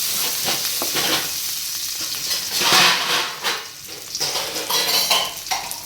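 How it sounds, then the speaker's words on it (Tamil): Onions, green chilies and mustard seeds fry in a clay pot while a utensil stirs them, making a steady close sizzle with repeated scraping and clinking strokes against the pot. "வெங்காயம் சேர்த்துக்கிறாங்க சேர்த்துட்டு இதெல்லாம் நல்லா மிக்ஸ் பண்ணிக்கலாம்"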